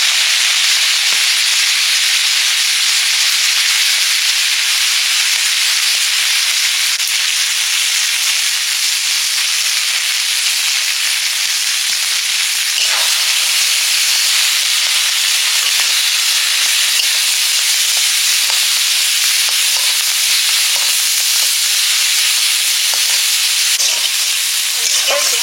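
Gima greens fry in oil in a pan, giving a steady, loud, dense sizzle that runs unbroken for the whole stretch, with small crackles and stirring scrapes scattered through it and no voices.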